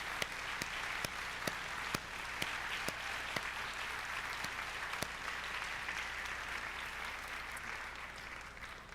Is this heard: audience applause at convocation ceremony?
yes